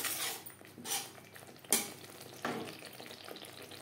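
Whole spices such as cumin, coriander, bay leaf, dry red chilli and peppercorns frying in a pan for a banana-flower curry give a steady soft sizzle, with a few louder stirring scrapes and clinks near the mic.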